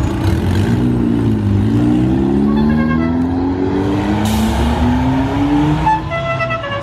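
A turbocharged car engine revs loudly and continuously nearby at a car meet, pitch climbing steadily as it accelerates, with a brief hiss partway through.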